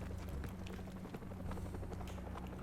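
A helicopter in Call of Duty Modern Warfare Remastered flying away, a faint, low rhythmic rotor thump with a steady drone receding into the distance.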